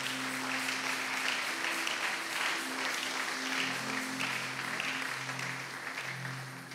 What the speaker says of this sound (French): Est-ce que tu peux acclamer très fort pour le Seigneur?